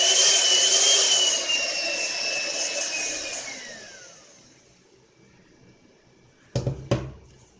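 A Philips 300W hand mixer motor whines loudly at turbo speed, a steady high-pitched drone that gradually winds down and fades, followed by a couple of brief handling clicks near the end.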